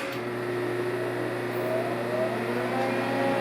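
Fadal CNC machine powering up, a steady humming whir with faint rising tones, close and continuous, no talk.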